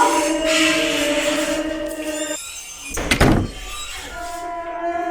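Someone bangs on a locked restroom door in a horror short film: one heavy, close thudding burst in the middle, with quieter ambient sound before and after.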